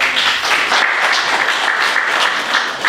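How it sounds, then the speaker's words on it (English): Steady applause from a crowd at a trucking company safety awards banquet, dense continuous clapping held at an even level for the full stretch with no voices standing out. "Round of applause for these guys."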